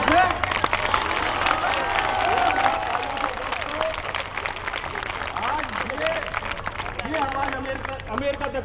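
An audience at a poetry recital claps and applauds in a dense, steady patter throughout, with voices talking over the applause.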